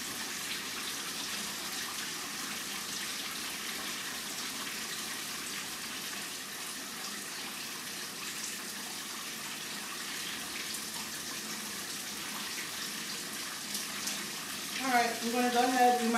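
Shower water runs in a steady, even hiss for a long stretch. Near the end, a brief burst of louder splashing and tonal sound rises over it.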